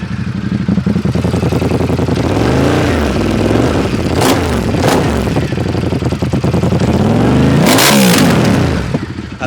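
A Ducati X Diavel motorcycle fitted with a Termignoni exhaust idles loudly up close, then rises through several sharp throttle blips and revs that fall back to a rumbling idle.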